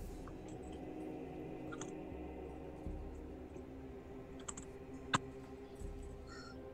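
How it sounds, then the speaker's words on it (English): Quiet clicking of keys on a computer keyboard in a room, irregular bursts of typing with a few sharper isolated clacks and a low background hum, no talking. "I was typing a secret message"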